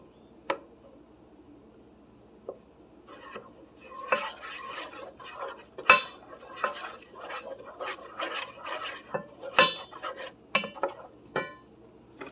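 Onions are stirred in a pot with a metal utensil, giving close clinks and scrapes against the pot in irregular bursts over a faint sizzle.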